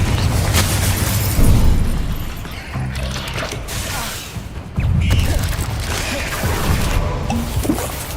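Incendio and Confringo spell blasts in Hogwarts Legacy, a string of loud booming impacts, crashes and fiery bursts in quick succession, with a voice talking over them.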